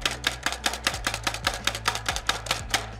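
Half an onion is chopped with a manual press-down food processor in a rapid, even series of sharp clacking chops, about twelve strikes in three seconds, close and clear.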